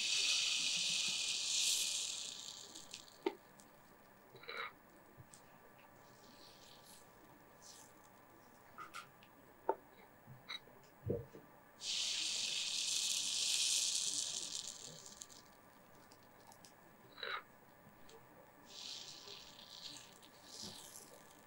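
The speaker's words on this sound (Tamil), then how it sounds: "இப்போ இங்கே ஒரு ஊத்தப்பம் பேன் வச்சுருக்கேங்க. இதில் நம்ம இந்த ஒரு கரண்டி எடுத்துகிட்டு இதில் ஊற்றலாம்." Fenugreek uthappam batter ladled onto a hot uthappam pan, giving bursts of bright, hissing sizzle that swell and fade several times between scattered small clicks and taps of the ladle.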